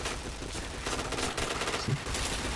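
Sustained automatic gunfire from a video game rattles steadily throughout, a dense continuous stream of shots at moderate loudness.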